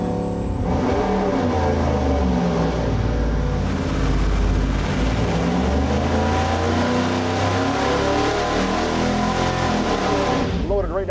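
A supercharged 427 LSX V8 on an engine dyno pulls from 2,000 RPM, with a loud, continuous roar that climbs steadily in pitch, then cuts off sharply near the end. Voices can be heard faintly behind it.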